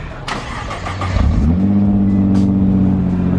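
A stock Nissan GT-R engine cranks and fires up, then settles into a loud, steady idle with a brief rev as it catches, heard close by with no talking.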